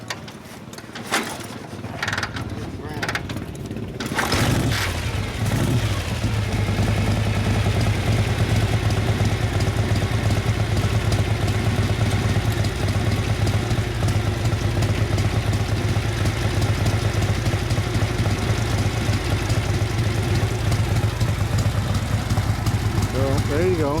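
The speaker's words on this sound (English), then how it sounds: "That is what a brand new 1957 FLH sounds like." A brand-new 1957 Harley-Davidson FLH with tank shift and sidecar starts after a few mechanical clunks, then its engine runs loud and steady at a close, throbbing idle; a voice speaks briefly.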